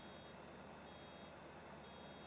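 A full vehicle in a farming video game on a Hungarian dairy farm sounds a steady electronic warning beep, a thin high tone repeating evenly over a faint engine hum, quiet and with no talking.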